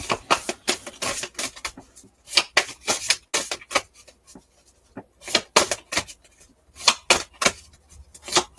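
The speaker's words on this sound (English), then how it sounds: "Now, when I spread that out, you'll notice that there's different backs on these cards." Playing cards flipped and spread out on a surface, with a string of quick, crisp clicks and slaps in irregular clusters and short pauses between them, close and fairly quiet.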